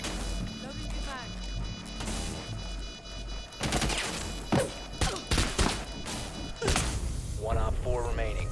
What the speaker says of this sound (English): Loading new mag.